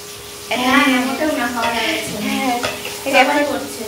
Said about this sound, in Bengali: এই যে এখানে মা এখন ভাজা করছে